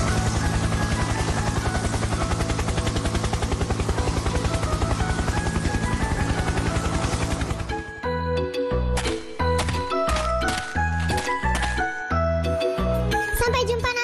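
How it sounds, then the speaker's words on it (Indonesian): A helicopter's dense, steady rotor-and-engine drone fills the first half, then gives way to a bright, jingly tune with tinkling notes. "Betul, ini namanya helikopter."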